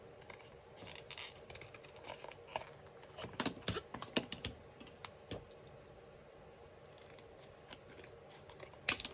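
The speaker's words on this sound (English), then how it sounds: "I do have my heavy duty scissors, so let's see if this will cut." Heavy duty scissors snip through a paper template for English paper piecing, a run of crisp close cuts with uneven pauses and a few sharper snips, no voices.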